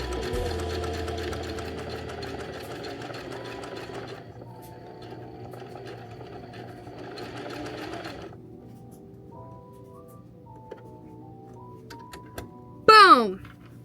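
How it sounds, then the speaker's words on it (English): A sewing machine stitches a blanket made of T-shirts, its motor running in steady bursts that stop and start, with a brief thunk and a squeaky rising sound near the end; light voices occur in the background. "Alrighty, let's get sewing."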